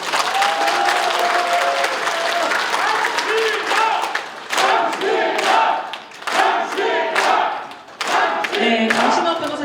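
A crowd at a Korean political rally claps loudly for lawyer Kang Shin-up, with a voice calling out through a loudspeaker, shouts rising, and bursts of applause swelling and dipping in waves.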